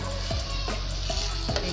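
Boneless chicken pieces frying in a pan, a steady broadband sizzle with a few stirring scrapes at regular intervals, close and moderately loud with no voices.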